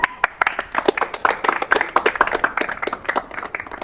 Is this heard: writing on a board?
no